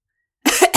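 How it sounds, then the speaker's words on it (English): A woman gives a short cough to clear her throat, two quick close bursts after silence, loud and near. "She coughed to clear her throat."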